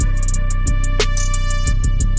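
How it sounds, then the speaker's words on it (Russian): An 808 bass in a trap beat made in FL Studio, droning almost constantly on B with loud deep booming hits, layered under fast hi-hats and a snare. "808 почти все время фигачит на ноте B."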